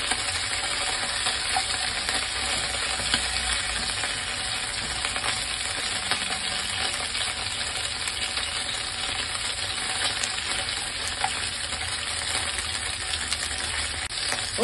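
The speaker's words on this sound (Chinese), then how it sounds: "大约每边咧系煎佢" Pork ribs pan-frying for sweet vinegar ribs give a steady, dense sizzle and crackle that stays close and even throughout, with no talk.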